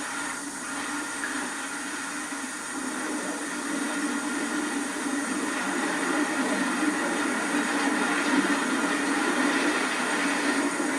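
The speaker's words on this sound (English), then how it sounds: "the Blue Train special is being worked only by steam locomotives, even under the electric wires" A Class 16E steam locomotive hauls the Blue Train special under electric wires, giving a dense, steady roar of wheels and motion that builds slightly and continues without a break.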